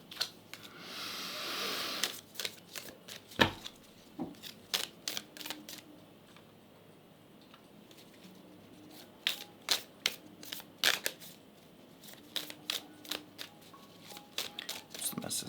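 Astrology cards being shuffled and handled in a quiet room, with a long rustling riffle at the start and then a string of sharp, separate card snaps and taps.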